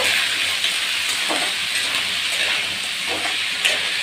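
French beans with a little salt being stirred in a hot pan, a steady close sizzle with soft scraping strokes repeating every second or so, no voices.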